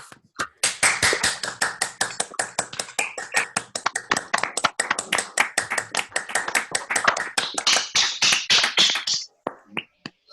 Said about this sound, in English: So maybe we can all unmute and clap.